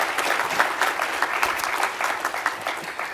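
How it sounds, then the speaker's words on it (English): An audience claps at a spring awards ceremony for an absent scholarship winner, a steady moderate round of many hands with individual claps standing out. "let's give her a round of applause regardless"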